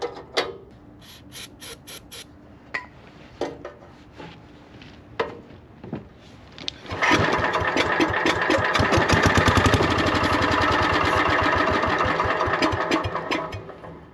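A Lincoln Weldanpower welder engine that had been sitting for 12 years runs on starting fluid. Isolated clicks and pops come first, then the engine catches and runs loud and steady for several seconds before slowing.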